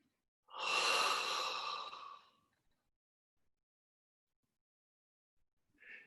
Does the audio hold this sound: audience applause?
no